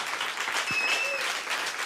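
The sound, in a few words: audience applause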